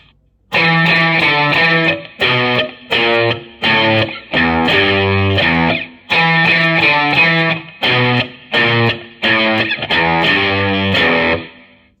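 A distorted electric guitar plays a chugging riff in short repeated bursts with brief gaps, loud and close, with no voices.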